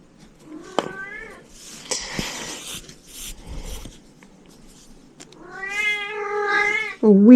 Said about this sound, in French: Oui, le chat, Kiki.